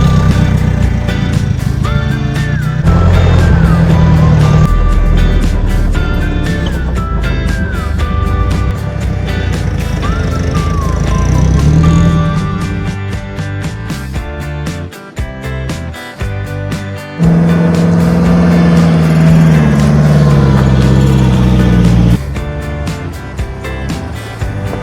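Road traffic heard from inside a moving vehicle on an Australian road, with a steady engine and road drone as a Mitsubishi van passes, the noise swelling and dipping over the stretch, with music also audible.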